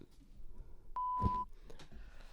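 A single bright censor beep lasting about half a second, loud against faint background murmur and brief breathy sounds.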